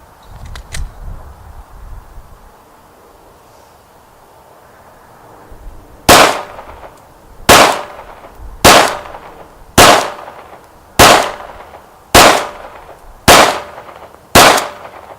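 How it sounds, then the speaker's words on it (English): Eight evenly spaced, sharp pistol shots from a Glock 19 Gen 4 striking steel plates, each crack followed by a ringing metallic ping, loud and close after a quiet stretch with no talk. "We're going to do the Gen 4 on the top plate"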